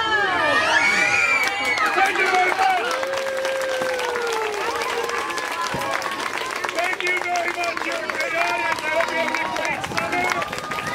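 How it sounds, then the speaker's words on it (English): Circus crowd in Sun Prairie applauding and shrieking, with children's high excited screams over steady clapping, loud and sustained from start to end. "This is where you give me a rousing round of applause. And you all scream over there"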